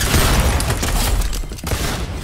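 Dense gunfire in an online duo shooter match, loud continuous bursts and booms filling the whole stretch without pause.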